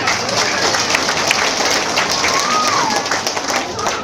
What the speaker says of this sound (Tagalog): O, palakpak na na.